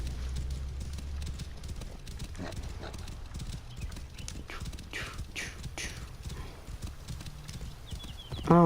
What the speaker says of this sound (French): ça va être un gars en chariot qui va se promener avec du fer